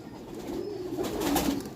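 Soft, low pigeon cooing rolls in a couple of murmuring phrases over steady background noise.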